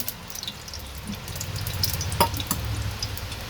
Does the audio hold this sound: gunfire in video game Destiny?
no